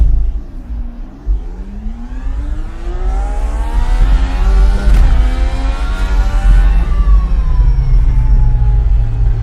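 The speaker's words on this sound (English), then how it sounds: "now you're sitting and you watch these cars go like this" Race cars on the St. Pete Grand Prix street circuit scream past one after another, their loud, high-pitched engine whine rising and falling as each car nears and pulls away, over a constant low rumble.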